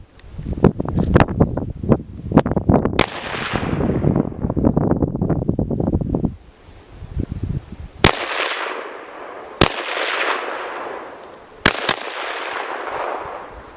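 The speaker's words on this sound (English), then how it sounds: "Alright, this is a test fire. So I only put 5 rounds in it" Five rifle shots from an SKS during a test fire at an outdoor range, sharp loud cracks spaced a second or two apart over wind noise, after an earlier stretch of rustling handling sounds.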